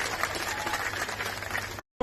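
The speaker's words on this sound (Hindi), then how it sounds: "एक बार जोरदार ताली बजाओ सब जन।" Applause from a crowd at a political rally, dense steady clapping for nearly two seconds before cutting off abruptly.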